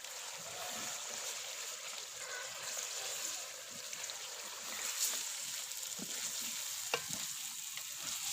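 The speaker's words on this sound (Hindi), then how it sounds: "अब इस ऑयल के अंदर चिकन को मज़ीद 5 से 6 मिनट के लिए अच्छी तरह भून लेंगे।" Chicken fries in oil while being stirred, a soft continuous sizzle broken by scraping and clinking strokes of a spoon against the pan, with no talking.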